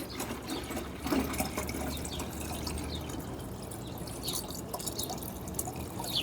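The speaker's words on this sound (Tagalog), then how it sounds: "i-refill lang natin tong ano lagayan tubig nila" Water trickles and drips steadily as a drinking container is refilled in a rabbit cage, a close, continuous liquid sound with light clinks and no talk.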